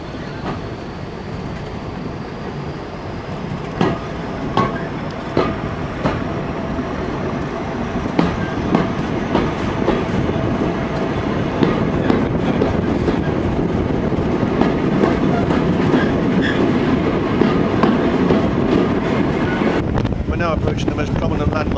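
A train runs on the Severn Valley Railway between Bridgnorth and Kidderminster, arcing toward the Victoria Bridge: a continuous rolling rumble with periodic wheel clacks and some wind buffeting on the microphone.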